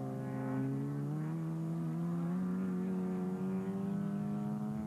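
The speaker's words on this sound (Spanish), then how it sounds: "¿Cómo escuchaste el auto de Tiengo?" A race car engine during a 1999 auto race in Victoria, droning steadily and loud throughout with a sustained, slowly rising pitch as it passes, no voices over it.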